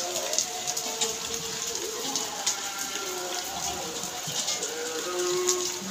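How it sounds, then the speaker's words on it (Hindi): Heavy rain pours down steadily outdoors, a dense continuous hiss of drops with water splashing and running, close and fairly loud, with no voices over it. "बारिश आना शुरू हो गई है, बहुत तेज़ बारिश हो रही है।"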